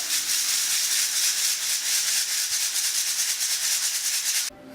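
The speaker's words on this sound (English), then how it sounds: "it's going through a fine screen. What I'm doing is I'm sifting it out." Ground moss is rubbed and shaken through a fine screen, a steady close rhythmic hissing scrape that stops abruptly at the end, with no speech.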